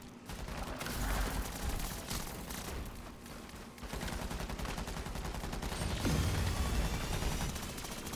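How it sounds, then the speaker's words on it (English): Dense gunfire from shooting zombies in Call of Duty: Modern Warfare III Zombies, sustained overlapping bursts and loud rattling shots running continuously without letup. "Start shooting the zombies."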